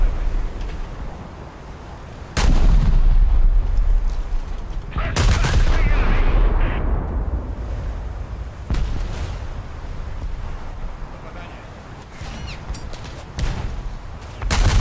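Naval 6-inch guns fire in a warship video game, with several loud, booming salvos spaced a few seconds apart. Each one leaves a rumbling tail over a constant background din.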